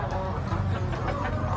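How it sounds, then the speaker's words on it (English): Dense, steady clucking from a large flock of around 200 to 300 chickens packed inside an organic chicken farm shed in India, close and continuous with overlapping calls throughout. "like 200-300 chickens inside here"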